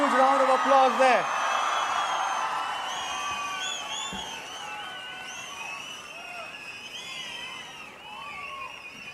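Crowd at a stage event in Mysuru cheering, whooping and clapping for guests, a continuous distant roar with scattered shouts, following a brief amplified voice at the start.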